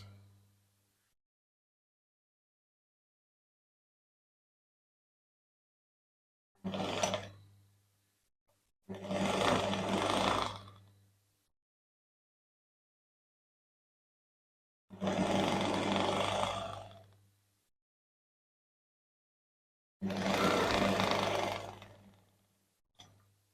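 An electric sewing machine stitches pieces of an Ankara men's button-down shirt in four separate runs of steady whirring, each a few seconds long, with near silence between the bursts.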